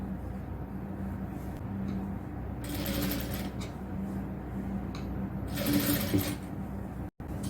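A sewing machine stitching a frill onto a nighty, running as a steady mechanical whir with two louder bursts of rapid stitching, close and continuous, with no talk.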